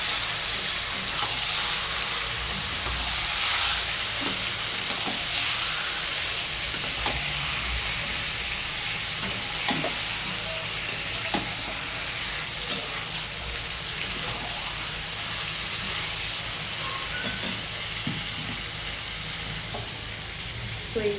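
Mutton sizzles in a hot pan with a steady, quiet hiss, broken now and then by soft scrapes and taps as it is stirred.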